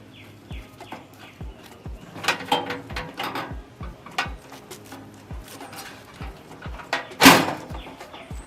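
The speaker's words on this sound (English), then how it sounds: "Pull the drawers out." A drawer slides out of a thrifted wooden desk with scattered knocks, clicks and rattling bumps in an uneven rhythm, plus one sharper scrape near the end, all close and moderately loud with no talk.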